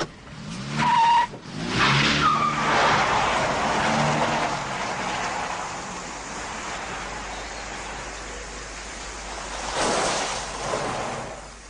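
A flooded car engine cranks and fails to start, with the starter grinding in short harsh bursts for a couple of seconds before giving way to a long hissing, rushing noise that swells again near the end.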